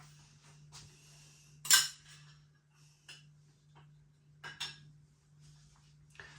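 A saucepan being handled on the hob to heat tinned spaghetti and sausages, giving a few sharp metallic clinks and knocks spaced over several seconds against a steady low hum, with no talking.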